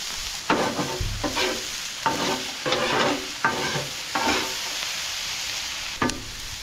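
Leeks being stirred in sesame oil with salt and crushed red pepper over very low heat: a run of scraping strokes, roughly one per second, with a soft sizzle underneath, close and fairly quiet, no talking.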